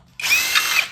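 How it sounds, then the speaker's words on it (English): A power drill driver whines steadily for under a second, backing out one of four large screws holding a CRT television tube for an arcade monitor build, close and loud. "So we got to take these four screws out."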